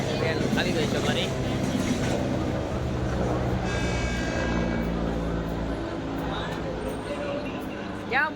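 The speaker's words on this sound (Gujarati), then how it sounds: "ફાઇનલી ટ્રેન આવી ગઈ છે મારી." A passenger train arrives at a busy station, its rumble and wheel clatter steady and fairly loud for about eight seconds, with a brief higher squeal partway through and a crowd murmuring on the platform.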